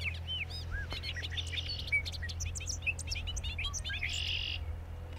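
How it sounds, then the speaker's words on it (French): A bobolink sings a rapid, bubbling run of chirps and tweets that carries on through the whole stretch, set over a low steady outdoor hum. "le goglu, parce que, d'abord pour son chant, c'est vraiment un chant incroyable"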